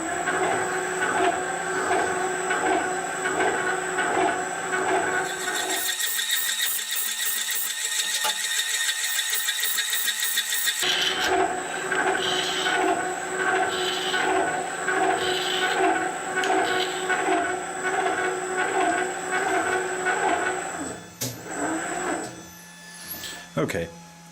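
Metal shaper cutting a bronze bushing, a steady mechanical rumble with repeated rhythmic stroke clatter and a brief higher-pitched stretch in the middle, fairly loud and continuous, with the machine winding down at the end.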